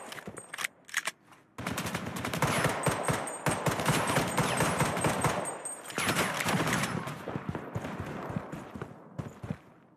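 Rapid automatic gunfire in the online shooter Project: BloodStrike, loud and dense, with bursts rattling almost continuously after a brief pause near the start.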